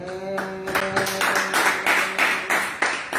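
A church congregation applauding, a loud, steady patter of many hands clapping, with a sustained voice or tone underneath at the start.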